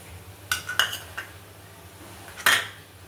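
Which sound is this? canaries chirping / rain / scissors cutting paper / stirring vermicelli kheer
stirring vermicelli kheer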